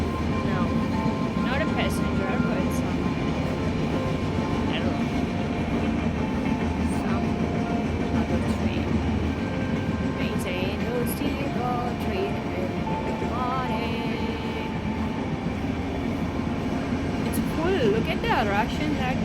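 A train running past on foggy tracks in India, a loud continuous rumble with rhythmic wheel clatter lasting throughout, with people talking over it.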